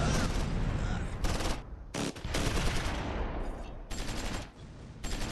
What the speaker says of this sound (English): Here comes the naval barrage,